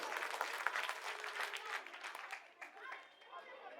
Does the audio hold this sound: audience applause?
yes